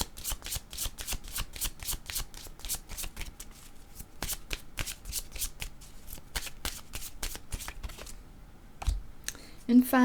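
A deck of playing cards being shuffled close by, repeated quick riffles in rhythmic bursts with brief pauses, followed by a short voice near the end.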